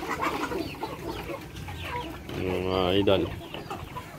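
Free-range chickens, including roosters and hens, cluck and call close by on a farm, with one louder drawn-out crow-like call near the end while people talk over them.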